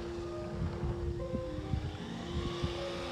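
An RC Monster Buffalo 1/16-scale 4WD RC truck drives with a steady electric motor whine that shifts in pitch as it speeds up, over a continuous rough rumble of wheels on the ground.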